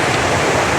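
Ocean waves break on a black sand beach at Reunion Island, a loud, dense wash of surf noise filling the brief moment with no voices.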